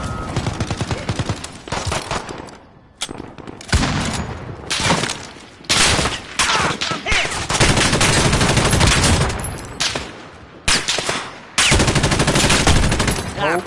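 Rapid bursts of automatic gunfire and single shots from the video game Call of Duty Modern Warfare, loud and dense, separated by short pauses, with occasional voices mixed in.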